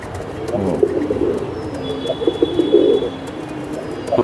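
Giribaz racing pigeons in a loft coo in repeated low, throaty bursts, close and clear over a constant murmur of background noise.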